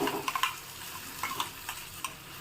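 Tomato and cashew paste frying in a pan for a hotel-style kaju paneer curry, a quiet sizzle broken by several light clicking stir strokes of a spoon against the pan.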